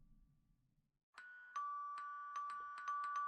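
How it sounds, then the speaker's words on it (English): A doorbell rings inside the Impostor Factory video game, a clear electronic chime that repeats several times in a quickening run after a brief moment of quiet, with no talking over it. "then you ring the doorbell"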